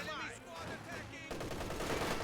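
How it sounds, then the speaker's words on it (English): MG34 machine gun fire in the video game Company of Heroes 2, heard as rapid bursts within a busy battle soundscape, mixed under a voice talking over the action. "MG34 firing away"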